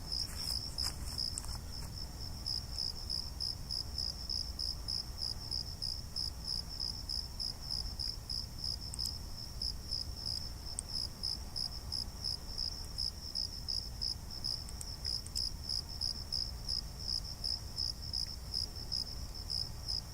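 Crickets and other insects chirp at night on a hillside near a pine tree, a fast, steady, high-pitched pulsing trill that repeats evenly throughout, faint and undisturbed by voices.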